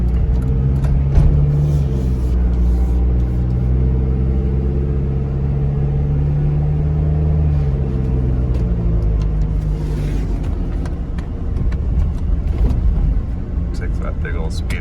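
A 1997 Mazda Bongo Friendee with a 2.5-liter intercooled turbo diesel and automatic gearbox cruises along, a steady low engine drone and road rumble filling the cabin while a person talks over it.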